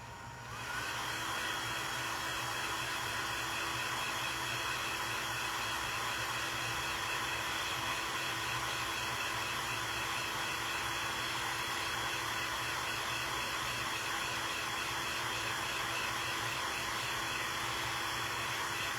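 A hair dryer blows steadily and loudly on a paper craft, a continuous close whooshing roar with a faint whine that runs unbroken from start to finish.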